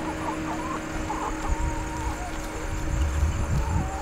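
Hens in a backyard chicken coop cluck softly in short, scattered bursts against a low background hum, with some shuffling and movement near the end.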